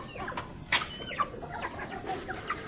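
A native hen clucks softly nearby while a newly hatched chick gives thin, high peeps, with brief louder calls rising above a quiet background.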